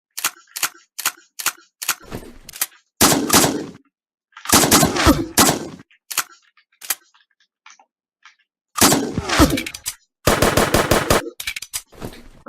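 Shotgun fire in a video game comes as sharp, loud blasts: single shots spaced apart and tight rapid volleys, with short silences between them.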